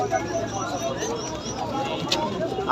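Black lakkha pigeons coo and call at a busy outdoor bird market, their soft warbling notes mixed with crowd noise while people talk nearby.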